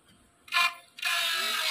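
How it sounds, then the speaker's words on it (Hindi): A Microtek 825 inverter with a cut heat-sink sheet jamming its cooling fan gives off bursts of broadband mechanical rattling, one short burst then a louder sustained rattle, close up with no talking. "ये बकायदा फैन को रोक भी दे रही है तो जब ये चार्जिंग आई आवाज़ आ रहा है, आवाज़ बढ़ जाती है।"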